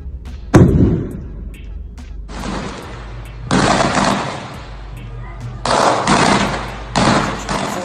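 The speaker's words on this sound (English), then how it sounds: "Traded gunfire with heavily armed members of the Sinaloa drug cartel yesterday before taking Ovidio Guzman Lopez into custo" Gunfire during a Sinaloa cartel clash in Culiacán, Mexico: a sharp blast followed by bursts of loud, rapid shooting in separate volleys, with gaps between them.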